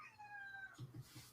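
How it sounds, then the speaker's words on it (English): A kitten meows in the background, a few short cries rising at the start and then two brief louder calls near the end, faint and somewhat distant. "We apologize for the cats crying in the background."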